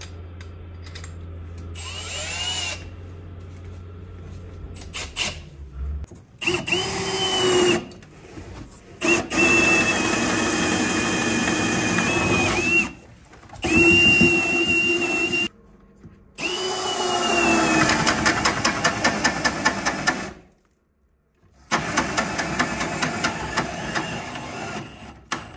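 A cordless battery drill bores into a hard spot in wood during house construction, whining in several long straining bursts separated by short pauses, loud and close, with the motor pitch sagging as it labors.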